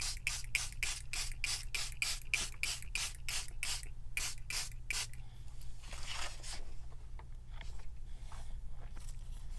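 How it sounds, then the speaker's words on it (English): Rapid bursts of a spray bottle spraying avocado dye over a lace stencil, about fifteen quick squirts in a steady rhythm, then a longer hiss and a few scattered sprays, close by. "I'm just going to spray it over the parts that I like."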